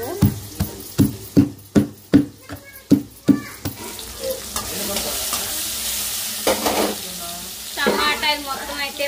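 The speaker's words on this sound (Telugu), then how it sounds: "టమాటాలు మొత్తం అయితే బాగా వేగినాయి కదండి." Tomatoes fry in a pan with a steady sizzle, broken by a quick run of sharp rhythmic scraping strokes as they are stirred, followed by softer clatter and sizzling, close up.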